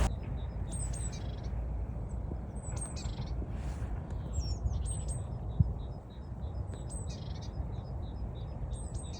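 Wild birds chirp outdoors near flooded ground, with repeated sharp, high tweets and calls recurring every second or so over a soft, steady background hiss; fairly distant and moderately quiet, no talking.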